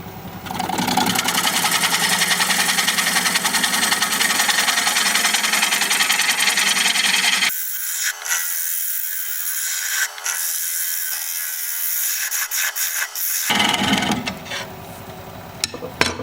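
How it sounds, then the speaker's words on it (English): Long 5/8 gouge cutting aromatic cedar spinning on a wood lathe, a loud steady rough cutting roar that drops away for several seconds to lighter intermittent scraping, then resumes near the end. "I'm going to switch to just a longer gouge, same 5/8, because I need the leverage"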